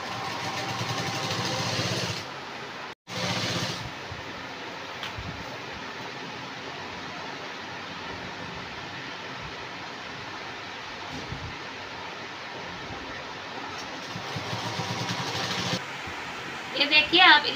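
A sewing machine runs steadily as it stitches a half-inch seam around the waistband of a party-wear skirt. The motor hums continuously for most of the stretch, with a brief stop near the start and someone speaking over it.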